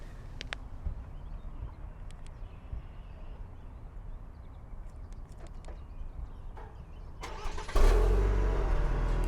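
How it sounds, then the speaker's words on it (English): A 2021 Cadillac CT4 with a 2.7 liter inline 4 is remote started outdoors, a quiet stretch of faint clicks giving way near the end to the engine firing up with a loud surge that settles into a steady run. "Why don't we start off with a little remote start?"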